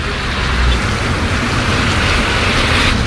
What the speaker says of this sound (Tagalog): malakas ang ulan eh